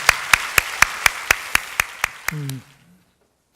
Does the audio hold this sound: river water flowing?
no